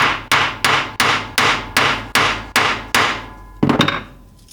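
Steel hammer tapping down the rivets on a damaged chainsaw bar: eight sharp, evenly spaced metallic strikes close up, each with a short ringing decay, then a final doubled knock.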